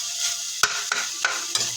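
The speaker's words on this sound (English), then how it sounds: "Stir it again. I'll mix it again." Ground pork and vegetables frying in a pan for cabbage rolls, a steady bright sizzle broken by four sharp scrapes and clacks of a utensil stirring, close and alone with no talk.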